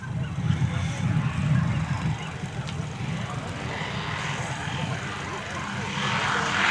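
Large scale model propeller planes, including a de Havilland Rapide, fly together in formation at a model air show, giving a steady droning engine hum at moderate distance throughout, with a voice talking over it.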